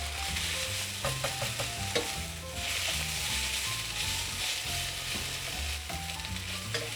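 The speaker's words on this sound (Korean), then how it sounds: "이거는 센 불에서 볶아도 돼요" Garlic chives stir-fry over high heat with a pinch of salt, giving a continuous close sizzle with scattered scraping and tossing sounds over soft background music.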